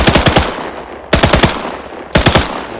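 A Thompson submachine gun in Arma 3 with the IFA3WarMod fires three short, loud bursts of four or five rapid shots each, spaced about a second apart with brief decaying echoes between.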